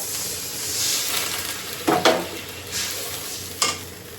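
Oil heating in a cooking pan in a home kitchen, a steady sizzling hiss with a few louder clatters of stirring.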